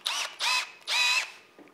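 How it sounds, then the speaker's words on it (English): A cordless drill revs in three short, close bursts while drilling into a taxidermy form, each a quick whine that spins up and stops. "I'm going to put this in my drill to start with."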